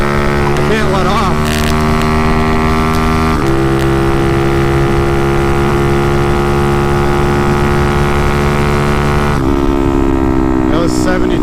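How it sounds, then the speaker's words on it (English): A motorcycle engine held at steady throttle through a wheelie on a slight uphill, droning loud and constant with strong harmonic tones that shift pitch twice, wind and talk faintly mixed in. "I can't let off the throttle to coast the wheelie"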